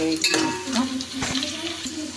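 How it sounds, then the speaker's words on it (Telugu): Onions fry in a pan with a steady close sizzle, broken by a few short stirring clinks and scrapes. "ఉల్లిపాయలు వేసి బాగా వేయించుకోవాలి"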